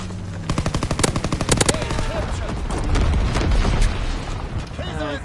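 Video game battle noise with rapid automatic gunfire bursts followed by a rumbling, sustained blast as a bomber drops incendiary bombs, loud and close.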